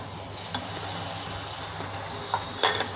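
Chopped tomatoes cook in a pan for a soya chunk curry, giving a steady soft sizzle with a few brief clinks of stirring near the end, close and moderately loud.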